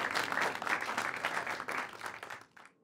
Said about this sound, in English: Did you hear hands clapping?